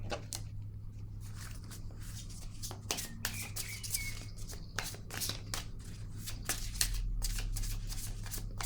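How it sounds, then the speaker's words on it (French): Tarot cards are shuffled and drawn by hand, a busy run of quick papery riffles and soft slaps repeating over a steady low hum, with faint voice traces in the background. "Je vais piger une carte."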